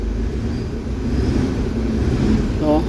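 A Toyota Fortuner engine with low power runs roughly in a steady, close, heavy rumble with no clear rev peaks. A faint voice is briefly heard over it.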